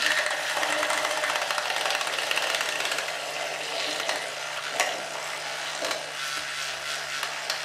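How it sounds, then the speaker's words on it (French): A small whisk with a flat edge beating a homemade purifying, moisturising face mask mixture in a bowl, giving a continuous close scraping, swishing rush with occasional clinks, no talking. "je vais utiliser donc mon super petit fouet là, vous voyez, donc avec le bord plat et hop"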